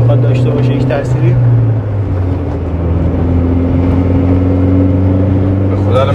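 A Peugeot 206 fitted with three electric superchargers idles and revs, a steady low engine drone with a mild rise in pitch, loud and near, while someone talks over it.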